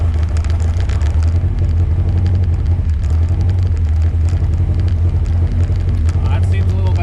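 A Rat10 project car's engine holds a high, screaming idle, a steady loud drone with strong low hum throughout, close by, with someone talking over it.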